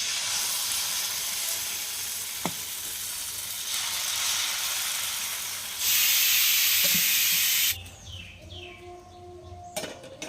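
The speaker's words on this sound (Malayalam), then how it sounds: "ദോശയ്ക്കുള്ള മാവ് ഒഴിച്ചു കൊടുക്കാം." Dosa batter poured onto a hot, oiled dosa griddle: a steady hiss swells into a loud, bright sizzle for about two seconds, then cuts off sharply, leaving faint clicks and quiet kitchen noise.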